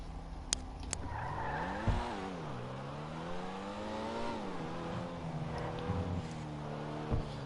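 Pfister Comet SR sports car in Grand Theft Auto 5 driving with a steady engine note that rises and falls, tires skidding and squealing through turns, loud and close throughout.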